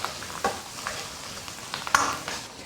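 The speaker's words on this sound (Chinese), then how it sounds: "下腊肉先爆香" Cured pork, a fatty Chinese-style bacon, stir-fried in a little hot oil in a wok, giving a soft, steady sizzle with a few brief scraping stirs and a sharper clatter near the end.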